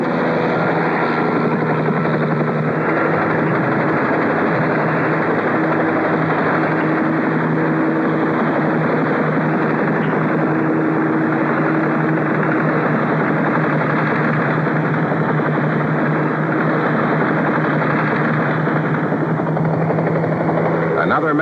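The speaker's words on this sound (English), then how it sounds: "And then a helicopter joins the act for a hair-raising escape." A helicopter flies close by, its engine and rotor producing a loud, steady roar that holds for the whole stretch without pause.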